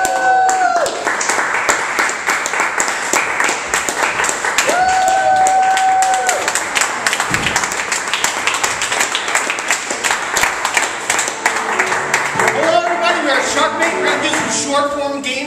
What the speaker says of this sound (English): now's the time to give a nice round of applause for Shark Bait,